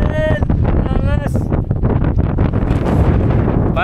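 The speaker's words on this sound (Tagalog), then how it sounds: "Napakalakas ng hangin." Strong wind buffets the microphone on the summit of Mount Apo, a loud, continuous low roar with gusts, while people talk and shout excitedly over it.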